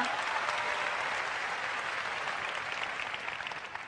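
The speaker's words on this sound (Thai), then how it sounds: "ปรบมือให้คุณพ่อดิฉันหน่อยค่ะ" Audience applause at a Unicity business event in Thailand, a dense, steady burst of clapping from a crowd that fades slightly toward the end.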